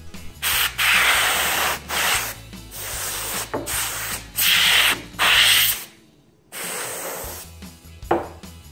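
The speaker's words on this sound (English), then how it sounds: "right along this line here is where I got most of the dust off of my console, so let's just spray that out" Compressed air sprayed into a PlayStation 4 console to blow out dust, a series of loud close hissing bursts of a second or so each, with short pauses between them.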